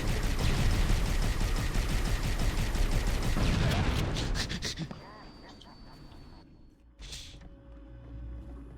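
Rapid, dense automatic gunfire in a Halo CE battle, loud and continuous for several seconds, then cutting off into quieter game ambience with a brief burst and low rumble near the end; a voice speaks briefly.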